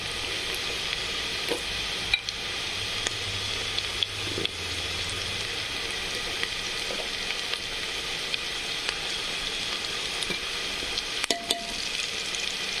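Sprouted legumes (ghugri) with salt frying in a pan, an even, close sizzle that holds steady throughout, with occasional light clicks and utensil taps.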